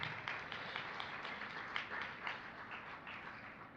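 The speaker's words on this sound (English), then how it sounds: "So give that a round of applause" An audience at an Ohio Allies & Advocates equality gathering gives a sustained round of applause, a dense, faint patter of many hands clapping heard from a distance.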